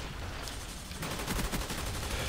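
Gunfire in the video game Call of Duty Black Ops with an AK74U, a quick burst of rapid shots close and loud in the second half after a brief muffled moment.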